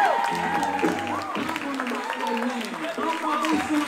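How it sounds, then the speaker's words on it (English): Wedding guests clap for the bridal party entrance at a Boston reception, a lively burst of applause running beneath an announcer's amplified voice and music throughout. "Please put your hands together for bridesmaid, Mackenzie Kish,"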